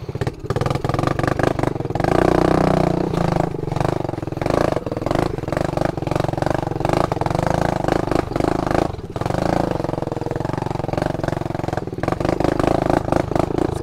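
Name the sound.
motorcycle engine on trail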